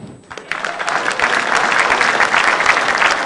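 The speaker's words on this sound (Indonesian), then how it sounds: "Tepuk tangan dong." Loud, close crowd applause at a stand-up comedy battle show, rising quickly after a brief quiet start and holding as a thick, continuous roar of clapping.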